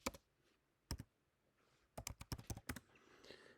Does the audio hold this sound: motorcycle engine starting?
no